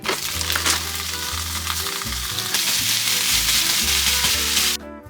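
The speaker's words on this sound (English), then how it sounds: "I guess saute some diced onions, and then I'm gonna add the ground turkey to this." Ground turkey and diced onions sizzle steadily in a hot pan, a loud continuous frying hiss with some stirring, ending abruptly near the finish.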